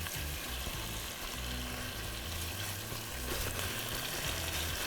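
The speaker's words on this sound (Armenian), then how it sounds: "Հավը թողում եմ լավ դապակվի։" Chicken browning in a pan, a faint, steady frying sizzle with a soft bubbling undertone throughout, no voices.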